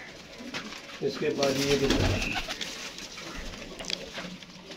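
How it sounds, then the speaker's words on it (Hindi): Pigeons in rooftop coops in Gujranwala coo softly and flutter nearby, with some patter, while someone speaks briefly. "हर खुडे में 10-12 कबूतर है और अच्छे कबूतर है सारे"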